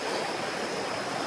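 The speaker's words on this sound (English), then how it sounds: "The water is so strong." A strong mountain rainforest stream rushes after a thunderstorm, giving a loud, dense, continuous roar of churning water close by.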